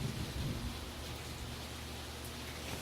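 Thunder rumbles low and continuous during a lightning storm, with steady rain hiss on surfaces throughout, fairly loud and unbroken, with no talking.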